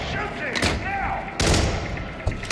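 Gunfire in a Hitman game mission set in Colorado, USA, a few heavy close shots cutting through shouting voices and game noise.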